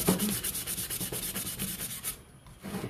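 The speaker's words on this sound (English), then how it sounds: "before you sand using the hanging method" Rhythmic sanding strokes on an epoxy glitter cup using the hanging method, a repeated close scratchy rubbing that pauses briefly near the end.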